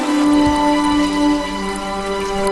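Heavy morning rain pours steadily onto surfaces, a dense, continuous hiss and patter of drops with no voices.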